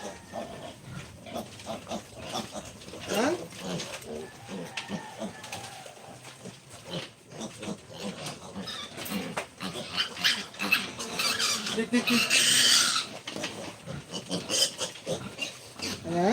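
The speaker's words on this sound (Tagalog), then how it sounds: "Malalaki ng mga baboy mga farmers, oh," Large pigs on a farm grunt and squeal in a busy, continuous chorus, with sharper squeals building near the end, while a person talks over the animals.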